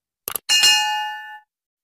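Notification bell for a subscribe bell icon: a couple of quick clicks, then a bright metallic ding that rings out clearly and decays over about a second, alone.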